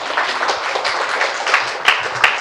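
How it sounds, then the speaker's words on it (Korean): Audience applause after a company presentation at a sales seminar, a steady crowd clapping with dense, continuous patter and a few sharper claps standing out near the end. "다시 한번 큰 박수 치세요"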